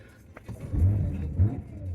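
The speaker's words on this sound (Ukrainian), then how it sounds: "як цей двигун шепче? це треба чути" Subaru Tribeca 2008 with a 3.6-litre engine idling quietly, a low steady rumble close by with a slight swell in the middle, no talking over it.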